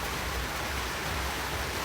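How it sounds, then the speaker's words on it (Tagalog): Rain falling outdoors, heard as a steady, dense hiss of close, continuous downpour with no breaks and no voices. "umuulan dito right now"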